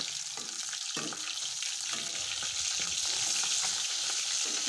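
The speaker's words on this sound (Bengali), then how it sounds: "এখন মাছগুলো ভালো করে আমি ঘুরে ঘুরে ভেজে নিচ্ছি লাল লাল করে একদম।" Pieces of bata fish fry in oil with a loud, dense, unbroken sizzle, broken now and then by soft stirring knocks, close up and with no voices.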